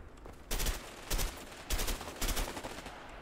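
Bursts of gunfire in the video game A Way Out, four loud clusters of rapid shots spaced about a second apart over steady background game noise.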